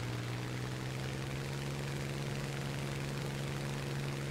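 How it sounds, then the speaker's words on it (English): Damaged fighter plane engine running in War Thunder, a steady low droning hum with constant noisy roar throughout, no talk. "My engine is fucked."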